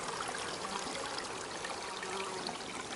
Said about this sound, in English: Nice little stream right here.